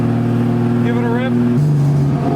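A truck engine revved hard while driving, its turbo not building pressure, a loud steady droning hum that shifts pitch midway as the revs change, with voices talking over it.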